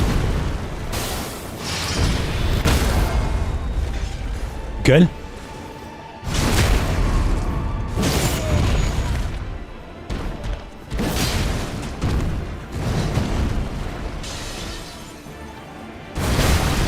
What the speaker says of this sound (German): Ein mächtiger Angriff, der einen Eisenpflock mit großer Explosion trifft